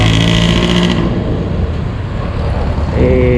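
Yamaha Fazzio scooter engine running and accelerating on a first ride, a loud, close engine drone that rises and settles with wind noise.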